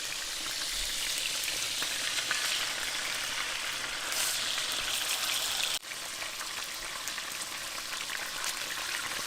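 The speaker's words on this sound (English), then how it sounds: "Let's give you a good sizzle down here." Raw beef sizzling in a cast iron pan, a steady, dense close-up frying hiss with fine crackles and pops running throughout, no talking.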